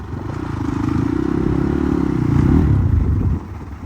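A motorcycle is ridden in hot weather, its engine a loud, close, rough drone that builds slightly before dropping off abruptly near the end.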